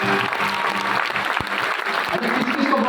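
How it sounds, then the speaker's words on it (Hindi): Loud, dense audience applause fills a celebration event for NEET and JEE results, steady throughout with crowd noise and faint voices underneath. "एक बार जोरदार ताली बजा दो राजवीर भाई के लिए।"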